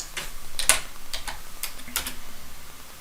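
Keys clack on a computer keyboard while a router's settings are entered at a command prompt, a run of close, crisp, uneven taps with no talking.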